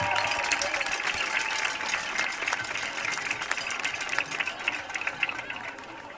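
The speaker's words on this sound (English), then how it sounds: "one make more round of applause for the 2023 class inductees of the Madison Athletic Hall of Fame" An audience applauds the 2023 class of inductees to the Madison Athletic Hall of Fame, a steady wash of clapping with a bright crackle and a low murmuring hum underneath.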